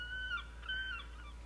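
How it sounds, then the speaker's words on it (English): A close-up seagull sound effect: two drawn-out, wailing gull cries in succession, clear and near, heard alone over a low steady hum. "It kind of sounds like maybe a seagull that's flying close to the camera would sound like that."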